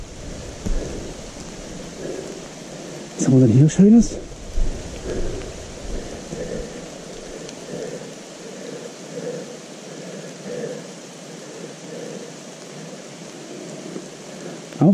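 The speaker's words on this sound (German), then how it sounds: "regnet heute in Strömen" Heavy rain keeps falling outside by old abandoned mine workings near Bratislava, a softer constant hiss running beneath a man's short spoken question.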